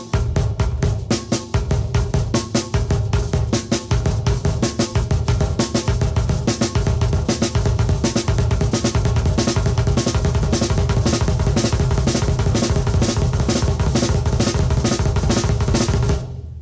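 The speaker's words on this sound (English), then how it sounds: "And then finally we have 2 beats with the hands and then 4 beats with the feet." Double bass drumming on a drum kit in a sextuplet pattern, two hand strokes followed by four bass drum kicks, repeating steadily and loudly for the whole stretch with no talking.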